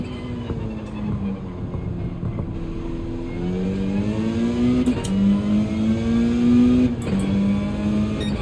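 In Gran Turismo 7, a car engine's note climbs and holds on a missed gear shift, a loud, close drone rising steadily in pitch with a brief dip before revving higher.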